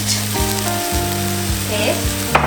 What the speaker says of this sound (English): reduce the heat and add 1 stick of cinnamon and all that ginger garlic crushed